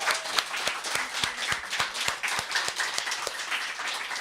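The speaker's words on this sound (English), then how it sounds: "So one last round of applause." Audience clapping at a reading by a summer workshop for young writers: a small group claps in quick, distinct, uneven strikes that continue steadily throughout.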